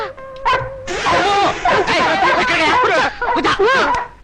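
A dog barks and yips repeatedly in a lively burst, close and loud, with a voice heard speaking briefly at the start.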